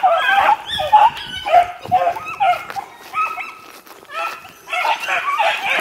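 Young hunting dog pups out in the wild bark and yip excitedly in rapid, overlapping bursts, loud and close, with high whiny yelps between the barks.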